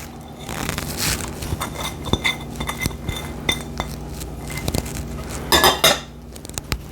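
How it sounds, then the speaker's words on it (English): A spoon stirs orange zest into zucchini bread batter with milk chocolate chips in a bowl, giving close, repeated clinks and scrapes against the bowl, with louder scraping bursts near the start and end and no talking. "We're just going to stir this just a little bit."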